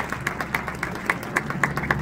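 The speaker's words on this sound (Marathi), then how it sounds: "या सगळ्यांसाठी एकदा जोरदार टाळ्या वाजूयात" A small audience claps together at a classroom teacher-training session, fairly close, a steady patter of hand claps lasting about two seconds with no talk over it.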